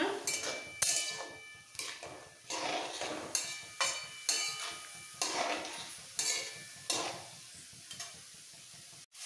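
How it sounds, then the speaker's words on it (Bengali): Vegetables being stirred in hot oil in a pan for pav bhaji, repeated close, fairly loud scraping strokes in an uneven rhythm over a continuous sizzle. "তেলের মধ্যে সবজিগুলো একটু নাড়াচাড়া করে"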